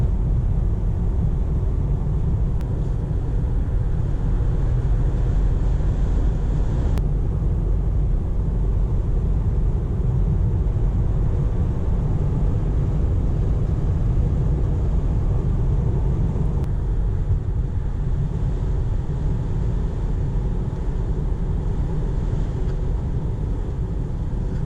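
Inside a Tesla Model 3 at 50 mph, a constant deep road rumble and tire roar holds steady throughout, with a light wind hiss above it and occasional faint clicks.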